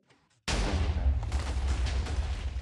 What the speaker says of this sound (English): The cannon blows up, I'm blaming you, I'm just saying.